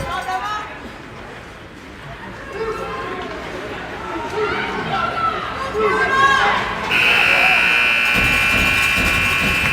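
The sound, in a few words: period buzzer at a hockey game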